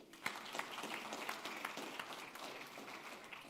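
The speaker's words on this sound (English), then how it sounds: "Guys, let's give her a round of applause." An audience at a forex industry expo in Cyprus claps for a speaker, a soft, fairly distant burst of steady applause with a few sharper claps standing out.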